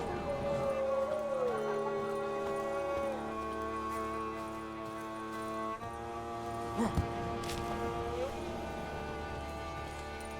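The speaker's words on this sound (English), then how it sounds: "Oh yeah, those dogs." Dogs in The Witcher 3 (Blood and Wine), a mix of whining, yips and howl-like cries over a steady droning game soundscape with sustained tones, with a short sharp burst near the end.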